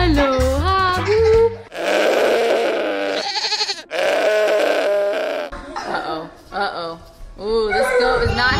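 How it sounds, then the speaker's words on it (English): A toy fainting goat bleats in loud, wavering electronic cries, repeated several times with brief gaps, mixed with other toy sounds and voices. "Oh, it's a fainting goat."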